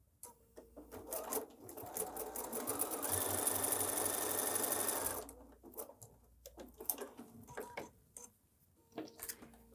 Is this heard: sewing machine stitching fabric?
yes